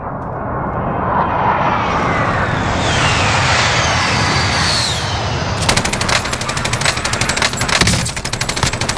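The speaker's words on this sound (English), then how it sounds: "Allied precision airstrike incoming." An allied precision airstrike in Call of Duty Warzone: a jet roars overhead and sweeps past, then loud rapid bursts of gunfire and explosions crackle close for several seconds.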